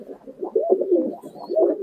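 A male pigeon coos close by in a soft, rolling, low burble that rises and falls through two short phrases.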